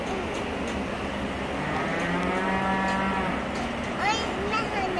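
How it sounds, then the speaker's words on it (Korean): A cow lows in one long, fairly loud moo at a farm, heard alone over steady outdoor background noise. "저기 소가 음매한다."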